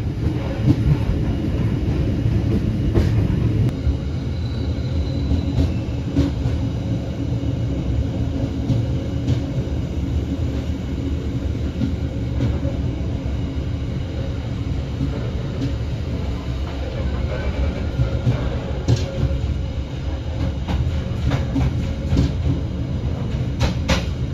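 Inside a business-class carriage of the KA Gumarang passenger train, a steady low rumble of the moving train with faint rattles and clicks, continuous and fairly loud, with no voices.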